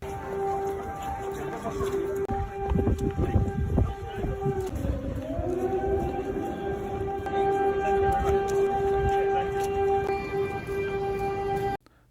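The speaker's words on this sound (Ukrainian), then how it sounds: "сигнали повітряної тривоги, які тоді пролунали у Львові" An air raid siren in Lviv, Ukraine wails in long sustained tones, rising and holding steady, with distant voices and movement underneath before it cuts off abruptly.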